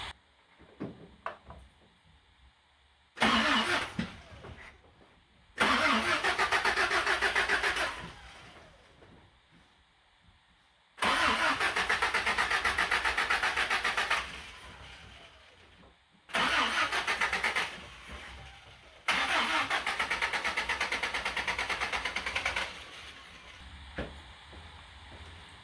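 A 1977 Toyota Celica GT with a Weber carburetor being moved out of a garage on its starter motor, four long bursts of loud whirring cranking separated by short quiet pauses and clunks, with no talking.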